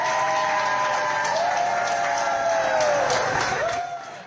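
A crowd of mask-wearing people applauds and cheers at an emptied dog kennel in Palm Beach, Florida, with steady clapping throughout, a tonal whine sliding across it, and a slight fade at the end.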